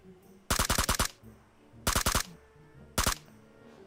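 Shooter video game gunfire in three sharp automatic bursts of about four to six rapid shots each, spaced roughly a second apart and loud against a quiet background.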